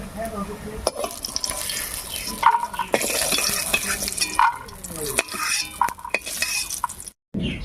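Reddish fried lentil dumplings (bori) are lifted out of hot oil with an uneven clatter of utensil against the pan over a watery sizzle, ending in a brief silence.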